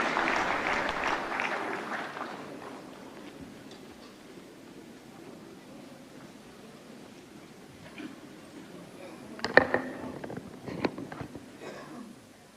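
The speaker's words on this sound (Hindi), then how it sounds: "कृपया तालियों के साथ स्वागत करें" Audience applause at a national film awards ceremony, a broad steady clapping that fades to a quiet murmur, then swells again with scattered claps.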